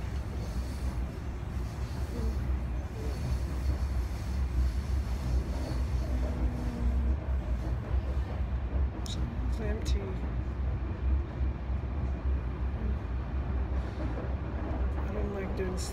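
A moving train gives a continuous low rumble and rattle, heard from inside and fairly quiet, with faint voices and small clicks over it.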